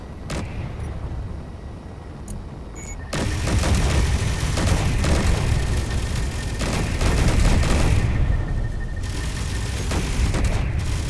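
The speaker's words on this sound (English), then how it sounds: "That thing is green and it shoots lasers." A green enemy fires lasers in Space Engineers, producing a rapid, loud volley of booming shots that jumps in intensity partway through and keeps up as dense sustained fire, no talk.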